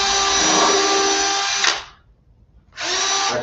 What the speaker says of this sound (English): So what I want to do is I want to drill a hole,